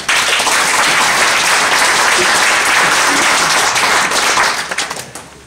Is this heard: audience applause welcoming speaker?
yes